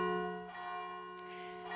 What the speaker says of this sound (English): The bells ringing out yesterday from the Anglican Cathedral in downtown St. John's.